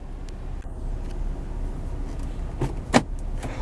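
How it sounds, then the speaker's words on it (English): Automatic door locks on a 2014 Hyundai Santa Fe Limited engage with a quick pair of mechanical clunks near the end, heard close up over a low steady engine idle inside the cabin. "the Santa Fe and Santa Fe Sport both come equipped with electronically controlled child protective safety locks, which automatically lock the vehicle"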